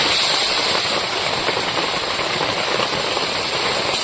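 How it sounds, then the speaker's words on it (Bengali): Spice paste thinned with water sizzles as it fries in a pan for a village-style chicken skin dish, a loud, steady hiss that carries on without a break. "মশলা বাটা জল দিয়েছি, ভালো করে মশলাটা কষিয়ে নেব।"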